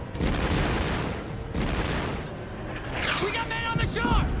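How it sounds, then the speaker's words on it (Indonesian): Gunfire from the Salerno shore in a war film, heavy booms and rumbling blasts filling the scene continuously, with shouting voices and dramatic sound underneath. "mereka juga dihujani tembakan dari sisi pantai Salerno"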